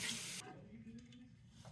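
A razor is rinsed under running tap water, heard as a short, forceful gush of spray that stops abruptly, then leaves faint room quiet.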